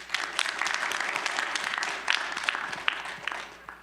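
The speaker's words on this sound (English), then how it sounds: "Let's give another round of applause to all the speakers." Audience applause for speakers at the CESM Workshop in the CG1 South Auditorium, a steady dense clapping from a large crowd lasting about four seconds and tapering slightly at the end.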